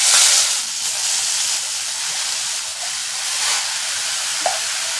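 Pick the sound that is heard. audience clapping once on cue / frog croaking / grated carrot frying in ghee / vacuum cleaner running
grated carrot frying in ghee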